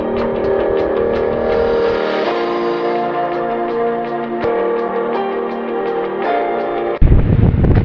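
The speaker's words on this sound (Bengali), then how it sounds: "আমরা একটা লোকাল ভ্যানে চেপে পুরো ব্রিজটা অতিক্রম করে সমুদ্রের অনেকটা গভীরে চলে যাচ্ছি" A local motor van drives across the long jetty bridge at Kumira jetty ghat out over the sea, a loud, steady, close engine drone that holds throughout before an abrupt rougher burst near the end.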